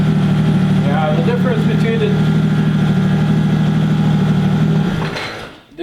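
A Polaris ProStar two-cylinder snowmobile engine runs at a steady, close idle with distinct pulsing power strokes. It fades out and cuts off near the end.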